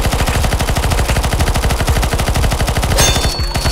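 Rapid automatic gunfire in CS:GO, a loud, steady stream of evenly spaced shots up close that breaks off briefly near the end.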